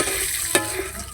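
Popcorn frying in a pan with a steady sizzle, one sharp pop standing out partway through.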